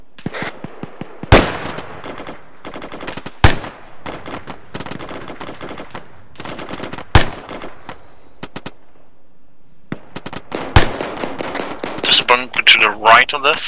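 Gunfire during a military exercise by the 6th Airborne Division: repeated bursts of rifle and machine-gun fire, some close and loud, others further off, in scattered volleys with radio-style talk and shouted commands between them.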